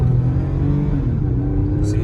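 Hard acceleration in a 2005 Toyota Avalon with the front tires spinning, a loud steady engine drone and low rumble heard from inside the car, with no talk over it.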